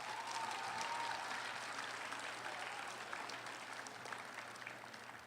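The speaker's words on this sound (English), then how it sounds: "Let's give your parents a round of applause." Applause for the parents at a SEMAA graduation ceremony, a quiet, distant-sounding crowd clapping that gradually fades over several seconds.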